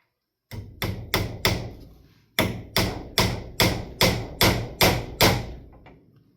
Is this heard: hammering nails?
yes